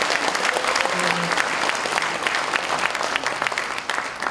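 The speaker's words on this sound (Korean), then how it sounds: "더불어민주당을 향해서 박수 한번 보내주셔야 되지 않겠습니까?" Audience applause at a rally in Korea supporting the PyeongChang Olympics, dense sustained clapping from a large crowd, loud and continuous with a few voices mixed in, tapering slightly toward the end.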